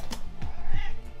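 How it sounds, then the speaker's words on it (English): A house cat meows repeatedly at home, several short rising and falling calls close by over a low background rumble. "My cat has been meowing nonstop."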